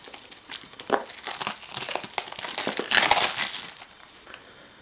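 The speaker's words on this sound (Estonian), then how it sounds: "Nii, aga teeme siis selle karbist lahti." Cardboard and plastic packaging being opened on a Vaporesso Target VTC 75W vape kit box, a busy run of close crinkling, rustling and tearing for several seconds, loudest near the end before settling.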